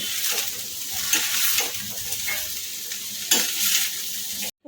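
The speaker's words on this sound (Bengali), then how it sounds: "পনিরটাও দিয়ে দিলাম সব ভালো করে মিশিয়ে নেব" Paneer fried rice with cashews and raisins fries in a pan, a steady close sizzle broken by repeated stirring scrapes and clanks of a spatula against the metal.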